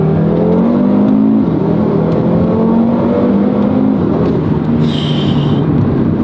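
An Audi RS3 five-cylinder engine, an all-wheel-drive Quattro, pulls hard under acceleration with a steady, loud, continuous rising drone that shifts pitch once partway through.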